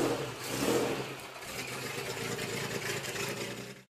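A Great Wall Hover 5 rally car with a Mitsubishi 3.2 turbo diesel engine drones at mid pitch, revving and holding steady for a few seconds before cutting off, moderately quiet and alone.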